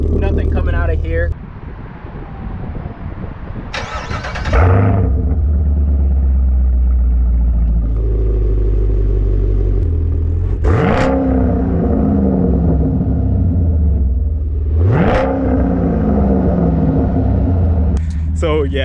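Deep, loud exhaust rumble from a 2016 Camaro SS idling with exhaust valves closed, with several revs that swell and fall away, the burble steady between them.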